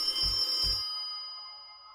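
Telephone ringing in a horror video game: two quick bell-like rings close together, loud and near, followed by a long fading electronic ring tone in a quiet space.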